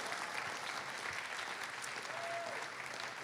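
Applause for a cohort of new startups at a pitch event, a steady, even roar of many hands clapping, fairly quiet and continuous with no break.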